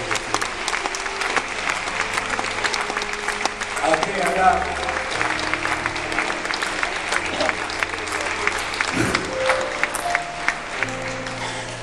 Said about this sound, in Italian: Se volete fare un applauso da dare